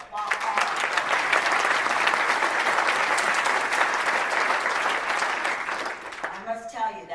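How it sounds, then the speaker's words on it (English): An audience at a State of the State address in Prescott claps in sustained, loud applause that fills the room, tapering off as a speaker resumes talking at the end. "So we need to applaud all of you."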